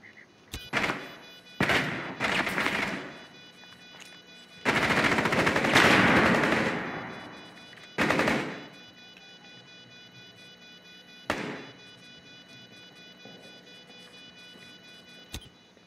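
Gunfire in Rainbow Six Siege on the Hereford Base map: short machine-gun bursts, one long sustained burst in the middle, then isolated single shots, all loud and clear over a steady background hum.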